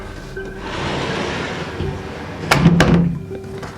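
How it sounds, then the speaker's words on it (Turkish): A door is pushed shut indoors, a dull sliding rumble followed by a louder thunk and rattle as it closes, fairly close. "Neyse kapatayım şu kapıyı ya."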